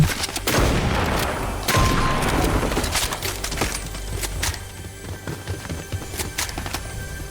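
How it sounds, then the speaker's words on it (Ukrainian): Dense, sustained gunfire in the video game Fortnite, a loud continuous fusillade of rapid shots with occasional sharper bursts, fading slightly but staying busy throughout. "Вон там щось якась стрілянина, прям плотненька"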